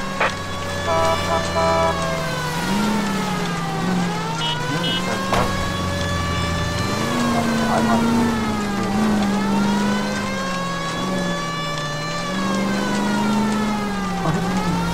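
A loud, continuous police car siren in the video game L.A. Noire wails up and down over engine noise, with the pitch sweeping repeatedly in a steady, close cycle.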